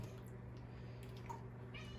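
A cat meows faintly a few times against a quiet room background, with no talking.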